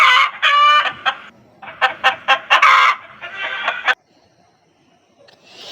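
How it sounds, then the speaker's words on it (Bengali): A hen clucks loudly and close by in a run of rapid, choppy bursts for about four seconds, followed by near silence. "এটা হলো মুরগি। মুরগিকে ইংরেজিতে বলে হেন।"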